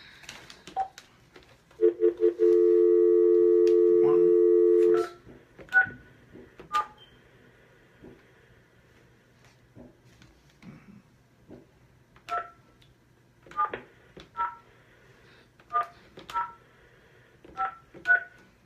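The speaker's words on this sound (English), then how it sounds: "Did you dial the number?" Touch-tone telephone dialing, with a long steady DTMF tone and then a series of short, evenly spaced keypad beeps as a number is entered, clear and close, with no talk over them.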